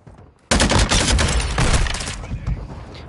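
A powerful weapon firing in a video game: after a quiet moment, a sudden loud, rapid stream of close shots cracks out, then gradually thins out toward the end.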